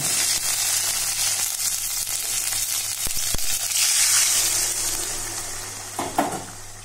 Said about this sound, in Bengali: আদাটা তেলের সাথে ভালো করে নাড়িয়ে কষিয়ে নিয়ে এর মধ্যে আগে যে সিদ্ধ করে রেখেছিলাম সেই ডালটাকে দিয়ে দিই